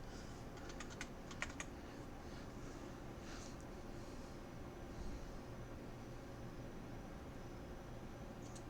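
Quiet typing on a computer keyboard: a short cluster of clicks early on, then scattered, fainter keystrokes over a steady background hiss, with no talking.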